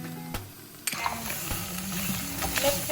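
Stirring flour, white pepper and salt together in a pan: soft scraping and sizzling, with a few light utensil knocks on the pan, close and steady, no talking.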